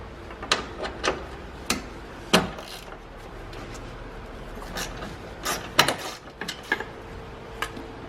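A ratchet with a 10mm socket undoes a bolt on the horn of a 2013-2017 Mazda CX-5, giving sparse, sharp clicks and short clattering bursts at close range, with no talking.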